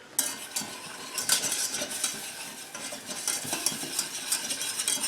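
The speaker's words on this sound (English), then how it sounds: "I'm just going to stir this around for a little bit. Get some of that flour taste out of there." A flour roux being stirred in a pan, with repeated utensil scrapes and clinks over a light sizzle, close by and with no speech.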